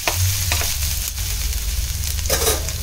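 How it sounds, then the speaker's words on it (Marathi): Green chilies, ginger and garlic sauté in oil over a high flame, producing a steady close sizzle with a few stirring scrapes and clinks against the pan, and no voices. "हिरव्या मिरच्या, आलं, मोठ्या गॅसवरच मी परतून घेते आहे"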